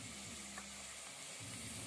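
Bay leaves dropped into hot oil with garlic paste in a village kitchen, giving a steady, close sizzle of frying that holds evenly throughout with a faint tap near the start.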